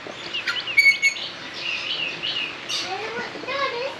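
Rosella parrots give shrill, whistling calls and chirps, fairly close, with children's voices faintly in the background.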